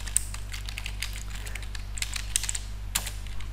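Quick, irregular keystrokes on a computer keyboard while entering MySQL syntax, close clicking taps in short bursts over a low steady electrical hum, with no speech.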